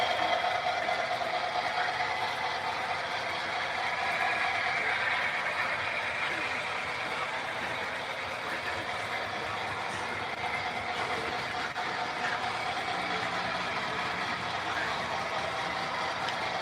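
A model train runs on a layout with an open-air car, giving a steady, continuous rumble and rolling hum from start to finish with no clear breaks.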